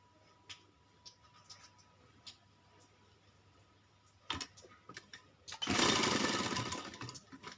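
A sewing machine stitches a child's kalidar kurta, with a few soft taps and clicks at first and then a loud, close, steady whirring run of stitching near the end.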